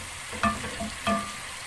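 Chicken frying with turmeric, curry and biryani spices for Hyderabadi-style chicken with basmati rice gives a soft steady sizzle, with two brief louder scrapes of stirring close by.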